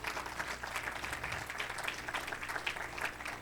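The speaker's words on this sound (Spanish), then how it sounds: "Denle un aplauso al Señor." Applause from a church congregation, steady and moderately loud, with a faint voice underneath throughout.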